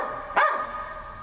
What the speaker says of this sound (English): Pull off the dog or I'll shoot it.